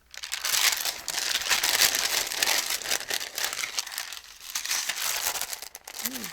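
Sheets of vellum-type tracing paper crinkle and rustle as they are handled up close, a steady dry crackling that runs throughout with small swells in loudness.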